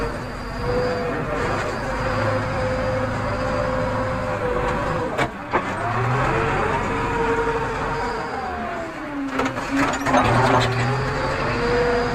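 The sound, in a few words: JCB 3DX backhoe loader engine during dozing work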